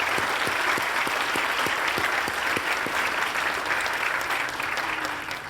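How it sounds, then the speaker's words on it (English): Sustained audience applause at a school graduation ceremony honoring award winners, a dense steady wash of many hands clapping that holds even throughout and eases slightly at the end. "let's congratulate them and give them a well-deserved round of applause"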